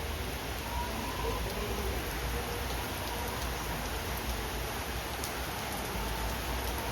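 Rain falling steadily at a new house in Kerala, an even, close hiss of drops on surfaces that holds constant throughout with no voices.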